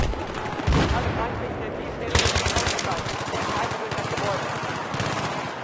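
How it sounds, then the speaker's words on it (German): Battlefield 3 combat with bursts of rapid machine-gun fire and heavy gunshots, loud and close, repeating in clusters over a dense battle din, with voices shouting beneath. "Ich schieße!"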